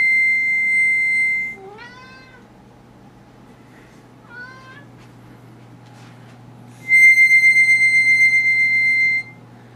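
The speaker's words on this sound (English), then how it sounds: "makes our cats fight." Two cats squabbling with short rising, wavering yowls amid bursts of sustained pulsing harmonica chords before and after, all close over a low background hum.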